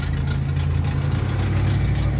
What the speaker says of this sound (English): He's got the exhaust capped off.